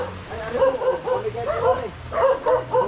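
A dog barks and yips in short bursts, fairly close, with brief whiny tones between the barks.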